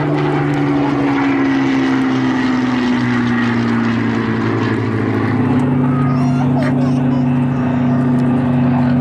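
Twin Pratt & Whitney radial engines of a Douglas Dakota at an air show drone loud and steady, a deep propeller hum with a slight pitch shift midway, close by and continuous.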